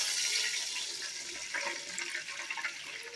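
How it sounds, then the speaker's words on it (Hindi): Water is poured into a cooking pot while making chicken with rice, a faint, short splashing gush that is quiet and alone. "2 ग्लास हम इसमें पानी ऐड करेंगे,"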